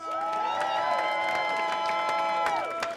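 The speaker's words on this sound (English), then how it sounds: "clap your hands and make some noise." Audience at a comedy bootcamp graduation show claps and cheers steadily for about three seconds, with sustained whoops and shouts above a dense wash of hand claps at fairly close range.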